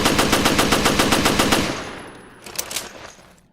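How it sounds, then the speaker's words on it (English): Rapid automatic-sounding burst of Beretta M92F handgun shots in the Resident Evil: Revelations video game, a dense string of loud cracks for about a second and a half, then fainter reload clicks and a clack before silence. "let's see the Beretta M92F fired in the fastest possible form and reloaded"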